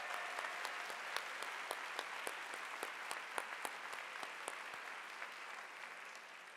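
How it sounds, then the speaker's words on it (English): An audience at a 2023 commencement ceremony applauds steadily, dense sustained clapping throughout with sharp individual claps standing out, no voices. "Let's give her another round of applause."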